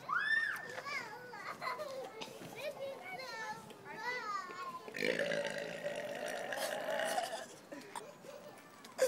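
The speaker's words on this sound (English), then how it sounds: "Burp." Childish voices yelp and squeal playfully, followed by a long, drawn-out burp in public that rumbles for several seconds before a final short sound.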